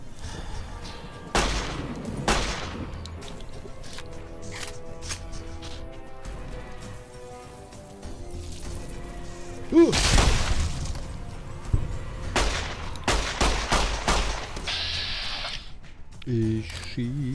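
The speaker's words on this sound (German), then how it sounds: "Ich schieß auf den." Gunfire in Fallout: New Vegas, heavy bursts of shots and impacts in several separate clusters, loud and close, over a running game soundscape with a voice at times.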